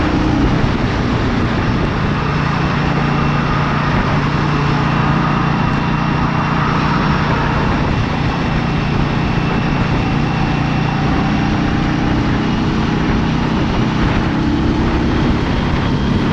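An Indian Scout Rogue motorcycle cruising with the throttle slightly open, a steady loud engine drone mixed with heavy wind rush, unchanging throughout.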